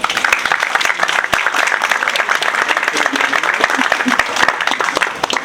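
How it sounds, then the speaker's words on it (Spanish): Audience applause at an economics conference, brisk continuous clapping from a room full of people, close and fairly loud throughout, with faint voices mixed in. "Vamos a un aplauso,"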